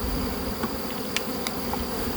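Honeybees buzzing steadily as they are shaken down from a hive frame during swarm-cell removal, a continuous close insect drone with a few brief louder passes.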